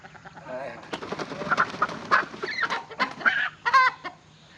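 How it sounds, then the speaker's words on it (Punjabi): Newly brought desi roosters and chickens cluck and squawk nearby in a run of short, overlapping calls, with a faint voice briefly in the background. "ਨਵੇਂ ਸੀਲ ਕੁੱਕੜ ਜਿਹੜੇ ਨੇ ਦੇਸੀ ਕੁੱਕੜ ਇਹ ਲਿਆਂਦੇ ਨੇ"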